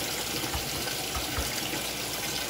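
Washing machine on its rinse cycle with water running, a steady rushing hiss with faint low thumps inside the drum.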